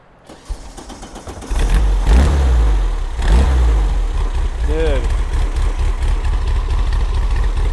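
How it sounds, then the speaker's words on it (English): A 1955 Porsche 356 Roadster widebody replica engine starts up and runs with a deep, loud rumble, revving briefly before settling into a rough, steady idle, close by. "When you started it, this whole engine just wobbled back and forth."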